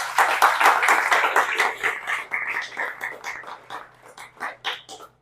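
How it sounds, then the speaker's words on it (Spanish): A church congregation claps together during a service, loud and close, the applause thinning into scattered claps toward the end. "Dale un aplauso al Señor."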